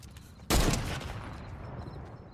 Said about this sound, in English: When I shoot this gun, it adds an astronomical amount of recoil, bro.